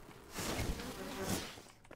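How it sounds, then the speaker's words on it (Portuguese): Angry bees buzz loudly in a farming video game, a dense swarming drone that swells twice and fades near the end, with no talking. "As abelhas vieram ensandecidas. Querendo me atacar."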